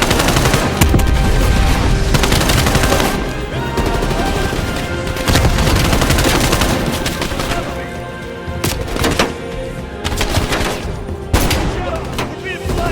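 Sustained turret machine-gun fire in Call of Duty: Black Ops Cold War, loud and rapid with dense bursts and heavy booms across the whole stretch, with battle noise and brief pauses between volleys.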